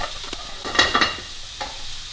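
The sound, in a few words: oil sizzling in a frying pan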